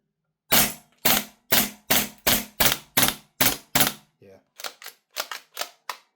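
An airsoft VMP1 gas blowback gun fires a run of eight sharp, loud cracks at an even pace, then, after a short pause, a quicker, softer burst of clattering shots.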